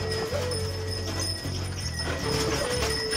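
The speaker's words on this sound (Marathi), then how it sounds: "घुंगरं वाजले की पळायले बैल डायरेक्ट।" Bullocks run with ringing ankle bells, a steady clatter of hooves and jingling bells close by and continuous, with no voices.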